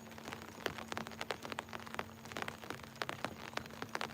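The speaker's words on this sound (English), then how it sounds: "It's raining here." Rain falling at night by Cheatham Dam during channel catfish fishing, a soft steady patter with scattered sharper drops hitting a surface, faint and continuous, with a low steady hum underneath.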